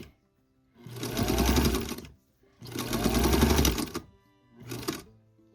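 A sewing machine stitches around the edge of a small quilt, running in three close, steady bursts separated by brief pauses, the last one shorter.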